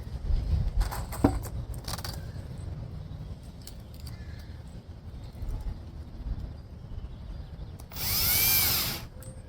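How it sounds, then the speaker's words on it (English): Power drill driving screws into wet redwood boards while a small planter box is assembled, giving one brief high whir near the end after quieter handling noises and clunks of wood. "we'll just start screwing them together."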